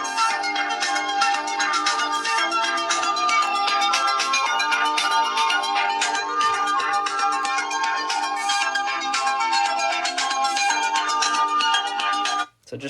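A song plays loud and bright through the speakers of a Moto G Power phone, sounding harsh and overloaded with a thin, tinny tone that continues steadily before cutting off at the end.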